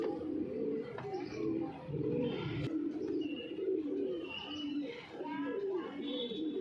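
Punjabi Malwai pigeons cooing close by, repeated throaty rolling coos overlapping throughout with a few faint chirps.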